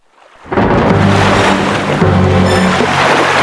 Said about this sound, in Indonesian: Sepertinya akan terjadi badai.